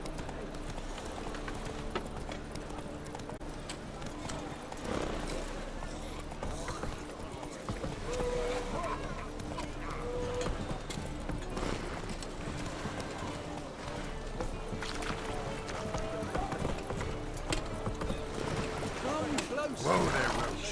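Roach, a horse in The Witcher 3, gallops with steady clip-clop hoofbeats running through the whole stretch, set under game music and a voice talking now and then.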